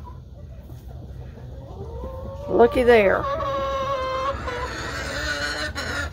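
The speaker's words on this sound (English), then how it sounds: "She's one of our older hens." An older hen clucking after laying an egg, rising squawking calls followed by repeated cackling, with a person speaking briefly nearby.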